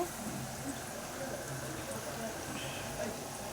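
Potato chops fry in mustard oil in a wok over lowered heat, giving a steady, even hiss and bubble that runs unbroken throughout at moderate loudness.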